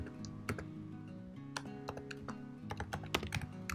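Typing on a computer keyboard at close range, an uneven run of quiet, crisp key clicks with brief pauses over a steady low background hum.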